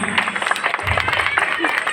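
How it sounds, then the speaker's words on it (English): Steady audience applause at a school annual day honouring the best girl student, a dense wash of clapping filling the space throughout, with a voice speaking over it. "Please continue to give your hand of applause for the best girl student of the school 2023-24."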